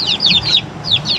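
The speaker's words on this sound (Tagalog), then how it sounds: "mga manok" Chickens cluck in quick repeated bursts, fairly close and steady, with a low background hum beneath them.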